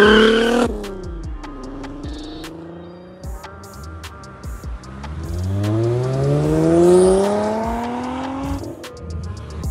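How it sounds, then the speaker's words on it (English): Classic cars, a BMW E30 with an inline six and a Volkswagen VR6, rev their engines up close on a breakfast run, the engine notes climbing and falling in pitch, with short tire noises and no talk. "From the purr of the BMW E30's inline six to the growl of the Volkswagen VR6."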